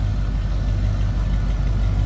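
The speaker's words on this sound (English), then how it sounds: "So nice sounding exhaust, nothing crazy over the top, obnoxious, loud, anything like that." A 1961 Ford F100 street rod idles at the rear with a steady, deep exhaust rumble, loud and close, an even low drone with no revving and no voices.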